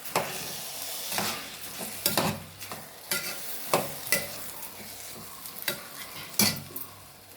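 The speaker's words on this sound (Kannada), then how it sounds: "ಸ್ವಲ್ಪ ಫ್ರೈ ಆಗಲಿ" Ingredients sizzle in hot oil for a simple pulao, a soft close frying hiss broken by a series of sharp spoon-against-pan stirring scrapes and knocks.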